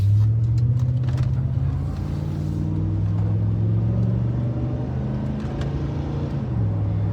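Old Ford truck driven on the road: a steady low engine drone with road rumble, pitch easing slightly as it cruises, then a clear drop near the end as it shifts, recorded from inside the cab without talking.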